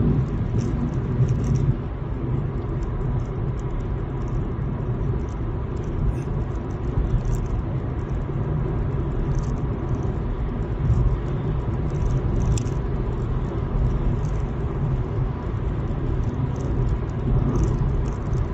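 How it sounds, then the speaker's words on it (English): A truck drives along a road near Paarl in the Cape Winelands, a continuous low road rumble with faint rattles heard from inside a car, no talk. "What is this truck carrying?"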